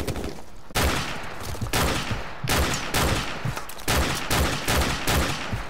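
Sniper rifle fire in Call of Duty Modern Warfare Remastered during a safehouse assault: loud, sharp shots at roughly one-second intervals, each with a booming tail, over steady battle ambience.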